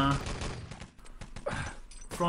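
Artillery strike in the Enemy Territory shooter during a competitive 6-on-6 match, a rapid burst of sharp explosive cracks and thuds in quick succession, with a commentator talking over it.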